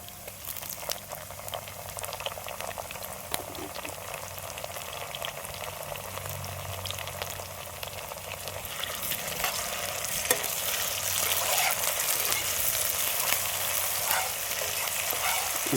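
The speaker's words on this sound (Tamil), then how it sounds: "இஞ்சி பூண்டு பச்சை வாசம் போகிற வரைக்கும் நல்லா வதக்கிடலாம்." Ginger garlic paste frying in a pan for mutton masala, a continuous close sizzle with occasional stirring scrapes, growing gradually louder and brighter.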